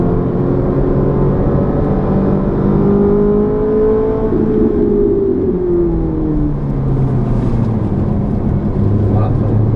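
A Ferrari 458 or Lamborghini Gallardo on the Lohéac circuit accelerates steadily, its engine note climbing through gears with a smooth rising whine heard from inside the car, alongside talk.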